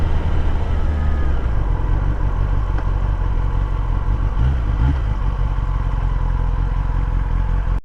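A Kawasaki ZX-10R sport motorcycle engine rumbles loud and close throughout, a continuous deep throb with a little road clatter mixed in.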